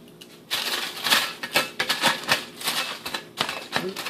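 Aluminium foil crinkles and rustles in a run of crisp, irregular bursts while dried shrimp are being roasted, handled close up with no talking.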